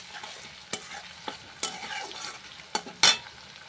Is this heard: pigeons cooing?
no